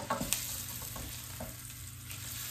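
Breakfast sausage sizzles in a pan for an egg roll in a bowl, a steady close frying crackle with a few scraping stirs near the start.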